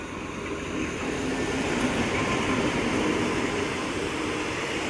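Express train 112 pulling into Chumsaeng station in Thailand, a loud steady rumble of rolling wagons and wheels on rails that holds close and even throughout, with no voices.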